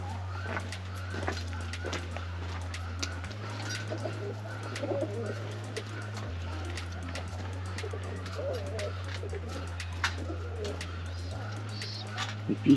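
White pigeons coo steadily in an enclosure at a wildlife park, a low repeating murmur that runs throughout with scattered chirps from other birds over it.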